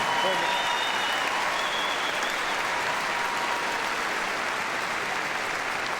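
Applause from an indoor audience after a heelwork-to-music freestyle dog routine at Crufts, heard as a dense, sustained clapping roar from a large crowd that holds steady throughout.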